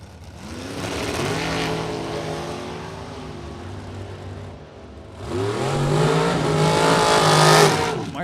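An Oldsmobile 442 and a dragster launch at a drag strip, engines roaring loudly and revving. After a brief dip, a second, louder surge rises to a peak before tapering, with no talk.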